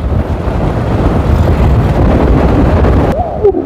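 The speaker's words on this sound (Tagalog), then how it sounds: "Lakas ng hangin." Loud, steady wind buffets the microphone with a heavy rumbling roar that carries on without a break until it cuts out near the end.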